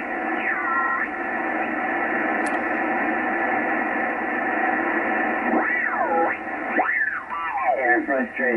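A Yaesu FT-950 HF transceiver receives a signal through steady hiss and static, with warbling, sweeping tones rising and falling over the noise toward the end.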